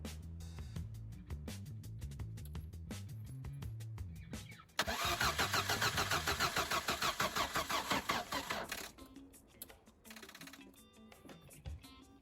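A VAZ 2108 carburetor car engine cranks for several seconds with a rhythmic starter whir, then catches and runs loudly and unevenly before settling, close by.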